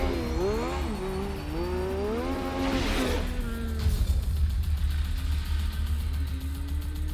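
A car engine in the video game Ghostwire: Tokyo revs up and roars with a rising whoosh of nitro boost, steady and loud with engine hum throughout.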